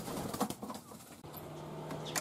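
Young racing pigeons coming out of the loft for their first flight outside: soft cooing and a few brief flutters sound faint and close, with a low steady tone running underneath and no talking.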